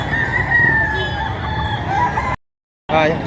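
Several roosters crow loudly over a busy crowd murmur at a chicken market, the calls overlapping, then a brief cut to silence before another crow starts.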